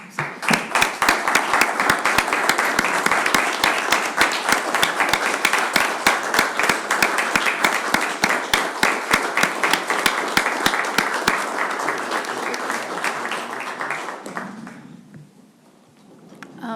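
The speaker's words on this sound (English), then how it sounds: "Stand and clap." A county commissioners' meeting audience stands and applauds, with loud, dense clapping from many people that holds steady for about twelve seconds, then thins and fades to near silence.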